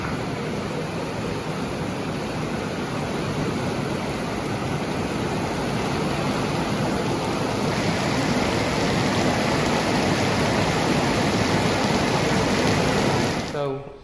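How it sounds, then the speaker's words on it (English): Heavy rain pours down around a barn as a dense, loud, steady wash of hiss that fills the whole stretch, then cuts off abruptly at the end. "We ain't seen rain like this in a month or so."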